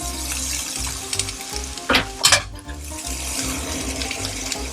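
Onions tipped into hot fat in a pan crackle and sizzle loudly at close range, with a brief splashy burst and light scraping as they settle in, then a steady fry beneath a low hum.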